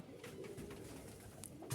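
Soft Jalali pigeon cooing in low, throaty murmurs, faint and close beside nests with eggs and chicks, with a few light rustles.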